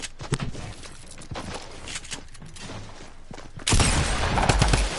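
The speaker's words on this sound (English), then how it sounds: "I'm gonna shoot you, dude." Shots ring out in a video game: scattered sharp reports at first, then a sudden loud, sustained burst of firing that continues to the end.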